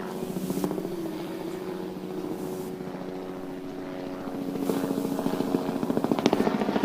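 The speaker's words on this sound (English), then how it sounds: "There's also a nice heli flying over us right now." A helicopter passes overhead at a driverless Formula Student Germany trackdrive event, a steady rotor drone with tonal engine hum that swells louder toward the end.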